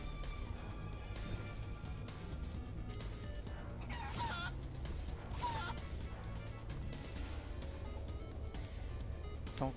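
Chickens clucking in the video game Guacamelee 2, a flurry of squawks and clucks over steady game music and ambience, with a couple of louder crashing hits midway.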